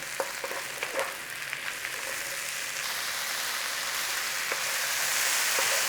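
Mushrooms pan-frying give off a steady, dense sizzle with scattered crackles and pops, close and continuous and gradually growing louder, with no talking.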